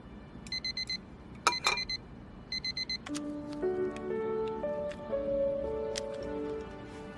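A wristwatch alarm beeps in three quick bursts of rapid electronic pips, each burst close and clear, before music takes over.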